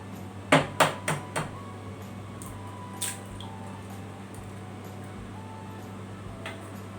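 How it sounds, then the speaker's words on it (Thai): Eggs are cracked into a Thai pork marinade: a quick run of four sharp taps and wet splats, fading one after another, then faint drips and a soft later tap against a low steady hum in a home kitchen. "หลังจากนั้นเราก็จะตอกไข่ลงไปนะคะ"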